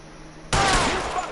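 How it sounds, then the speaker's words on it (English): A gunshot in the L.A. Noire video game, one sudden loud blast followed by a sustained roar of reverberation and noise that lingers to the end. "I shot you in the head, bro."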